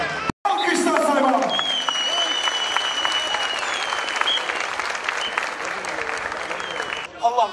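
Spectators clap at a Turkish oil wrestling event in Karacabey, a loud, sustained burst of crowd applause that follows a brief gap and runs steadily to the end, with faint voices over it.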